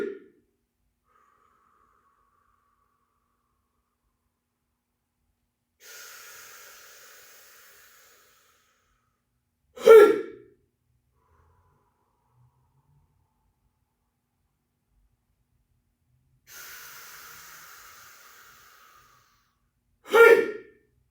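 Two sets of loud breathing during a qigong strength exercise, each a soft, drawn-out inhale followed a few seconds later by a sharp, forceful exhale, with long silences between them.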